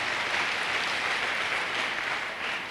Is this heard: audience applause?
yes